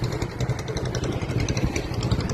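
A motorcycle engine runs steadily at a low idle-like rumble, fairly close and continuous, with no talking over it.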